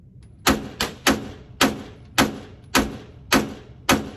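Springfield Operator 1911 pistol firing 9mm rounds, eight sharp evenly spaced shots in quick succession, each a crisp report with a short decay, no talk.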